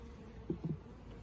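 Honeybees buzz at a beehive as a faint, low hum with a couple of brief louder swells as bees pass close.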